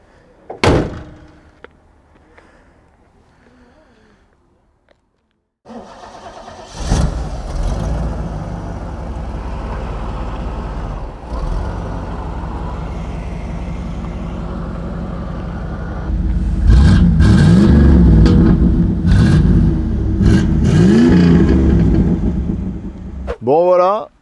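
A KITT replica car from Knight Rider turns over and settles into a steady running rumble, then revs louder with rising and falling pitch toward the end.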